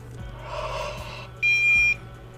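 A SCIRE Aeroflux TAD detector, Infraready edition, sounds its alarm: one steady high electronic tone lasting about half a second, loud and close, over a low background hum.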